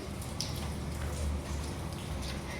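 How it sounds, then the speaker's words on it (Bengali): Rain falls onto puddles pooled across a flooded playground, a soft, steady patter of drops striking standing water, moderately close, with a faint low hum underneath and no voices. "দেখো কীভাবে বৃষ্টি পড়ছে"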